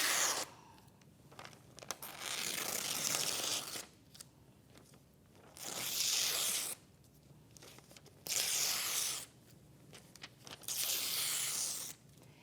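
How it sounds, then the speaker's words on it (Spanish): Paper being torn in several long ripping bursts, each lasting about a second or two with short pauses between, close and crisp, with no talking. "El rasgar"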